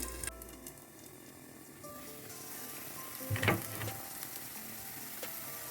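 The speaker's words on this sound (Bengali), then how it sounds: "আগে মরিচটা ভেজে তারপরে পেঁয়াজ আর কাঁচামরিচ একটু ভেজে নেব" Chilies, onion and garlic fry in a pan with a soft, steady sizzle, broken by a short clatter of stirring midway.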